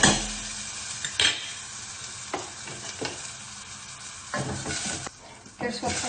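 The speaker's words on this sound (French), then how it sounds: "donc je fais fondre mon beurre et j'y dépose les échalotes" Shallots frying in melted butter in a saucepan give a steady, soft sizzle, broken by a few sharp scrapes and clatters of a utensil stirring them, close and moderately loud, with no speech.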